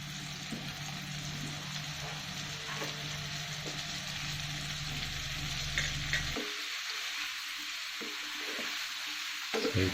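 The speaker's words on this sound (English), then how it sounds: "We're going to shallow fry the marinated paneer." Marinated paneer shallow frying in melted butter in a pan, a steady close sizzle and crackle throughout with a low hum that cuts out partway, leaving the bright frying hiss alone.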